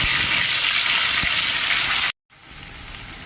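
Onion, ginger, green chili and garlic paste, with tomato, frying in oil for a soybean curry gives a loud, steady sizzle, then breaks off and resumes more softly after a short silence.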